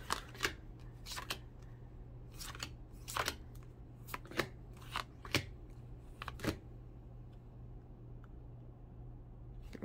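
Isis oracle cards shuffled by hand, giving a series of quick crisp riffling bursts with short pauses between them, close and fairly quiet, with no talking.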